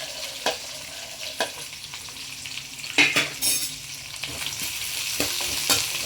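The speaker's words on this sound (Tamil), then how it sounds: "எல்லாம் ஒன்றா போட்டு நல்லா வதக்குங்க." Onions, shallots, crushed garlic and curry leaves sizzle and fry in a pan for a village-style dried fish curry, with steady frying hiss broken by several sharp stirring scrapes and clinks of a spoon against the pan.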